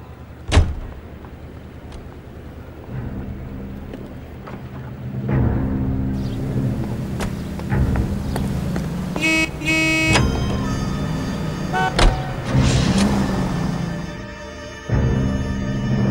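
Car driving in the video game L.A. Noire: engine hum runs through the stretch with a sharp door-like thump near the start, a burst of horn-like tones in the middle and shifting road noise, without speech.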